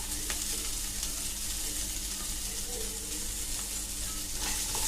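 Garlic cloves and a half-inch piece of ginger sizzle steadily in hot oil with onion in a pan, a continuous close frying hiss with faint stirring scrapes, no talking.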